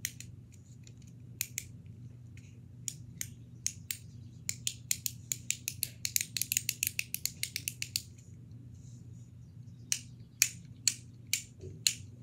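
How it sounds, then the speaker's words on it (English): Fidget toy buttons clicked in quick, sharp, loud clicks, some spaced out and some in fast bursts, close up with no talking. "So these are pretty loud sometimes. Like, so you can click the buttons"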